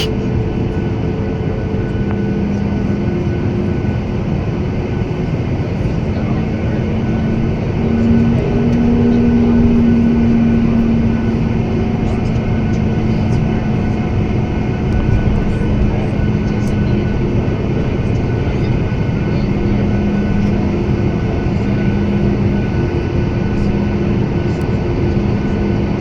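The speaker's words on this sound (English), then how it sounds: "Other airplanes at the gate." Airplanes at an airport gate at Orlando MCO, a steady low engine hum and whine heard from inside the cabin, continuous and fairly loud with a brief swell in the middle, people talking faintly underneath.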